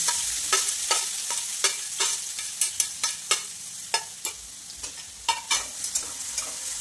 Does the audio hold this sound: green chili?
yes